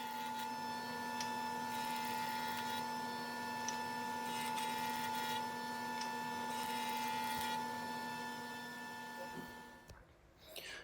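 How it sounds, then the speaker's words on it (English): A shop vac runs steadily, drawing chips from between wooden snare drum staves during glue-up prep, a constant close motor whine with a faint clatter that cuts off near the end. "I'm having to use my shop vac here to vacuum between staves"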